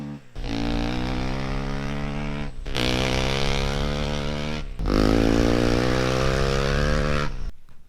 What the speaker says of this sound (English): let's rewatch that fourth gear acceleration one more time